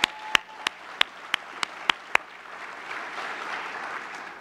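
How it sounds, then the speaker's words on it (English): Audience applause at a Mandela Washington Fellows event, opening with a handful of loud, evenly spaced single claps before settling into a softer, steady wash of crowd clapping. "this is a big accomplishment, and it deserves applause."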